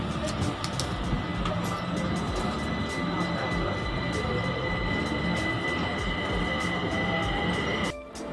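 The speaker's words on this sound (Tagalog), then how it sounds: "sasakay na kami ng MRT papuntang R4A" A Kaohsiung MRT metro train on the ride toward R4A Caoya Station makes a steady rumble with hum and tonal whine, holding an even level until a brief drop near the end.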